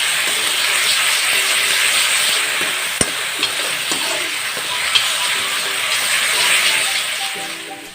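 Spice paste fries in a hot pan with a loud, constant sizzle and hiss, and a spoon scrapes and stirs it in a few light, repeated clinks.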